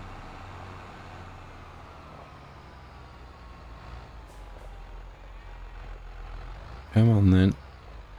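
A truck pulling a trailer in Farming Simulator 25, with a low engine rumble that holds steady and a short, loud hiss or clunk near the end. A brief spoken phrase is also heard.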